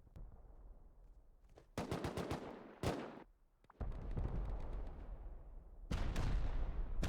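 Gunfire in the video game Rust during a 7v7 tournament raid: rapid bursts of automatic fire and single loud shots, alternating with short quiet gaps and a continuous rumbling background of distant shooting.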